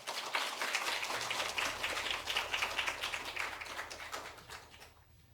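A church congregation claps together to welcome the pastor during a Sunday service, a dense, even burst of hand claps that fades away at the end.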